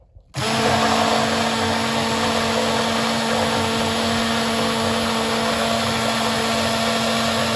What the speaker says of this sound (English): I'm gonna go ahead and mix this for about a minute or two until it comes to what's called trace